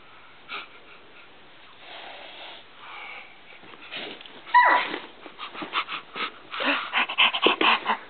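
Two puppies, one small, sniff in quick, close bursts, with soft snorts and a few faint whimpers, growing busier and louder toward the end.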